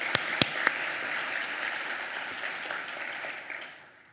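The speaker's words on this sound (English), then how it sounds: "Can we applaud one more time?" Applause from the audience at a United Way Women United awards luncheon, a steady wash of many hands clapping with a few sharp claps standing out early, fading toward the end.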